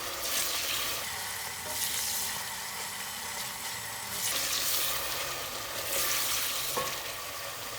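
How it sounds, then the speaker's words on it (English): Onions fry in oil in a pan while being stirred for oil rice with salted beef, a close, continuous sizzle with swelling bursts as the spoon moves through, and no talking. "I'll keep stirring so my onions doesn't burn."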